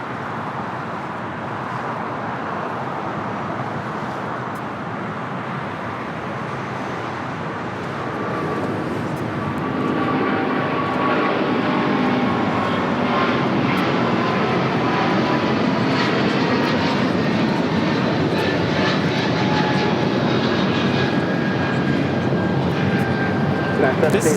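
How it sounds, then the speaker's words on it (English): A United Airlines Boeing 777-200ER jet taking off for Washington Dulles, its engine roar building steadily and growing louder over about twenty-four seconds, a broad rumble heard at a distance, with a voice speaking over it. "This is United Airlines 1140 taking off to Washington Dulles on a 777-200ER."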